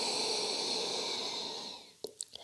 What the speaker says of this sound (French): Inspirez par le nez et expirez entre vos lèvres.